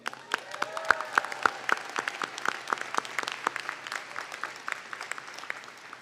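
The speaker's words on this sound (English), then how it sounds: "Let's give them a round of applause." Audience applause fills a hall at a nursing school graduation ceremony, steady dense clapping from many hands, moderately distant and even throughout, with no talk over it.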